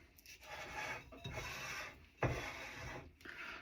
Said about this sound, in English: So I'm going to scrape my edges.